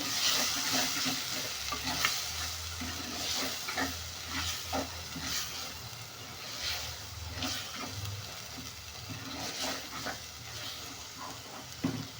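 Mixed vegetables with ginger and garlic frying and being stirred in a pan, steady sizzle with repeated scraping strokes of a spoon, fairly close, with a faint dog bark in the background.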